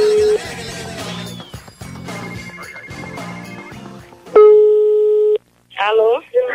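Electronic telephone line tones, including a steady beep, sound over the phone while a prank call is being placed, mixed with voices and background sound.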